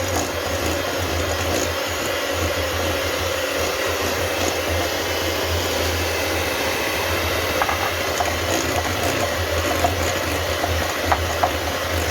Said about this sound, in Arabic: بعد ما خلطت البيض مع السكر مع الزبده بتاعي